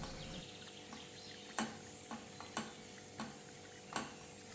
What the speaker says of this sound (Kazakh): үстіне 1 шай қасық томат пастасын салып, араластыра отырып 1-2 минут қуырамыз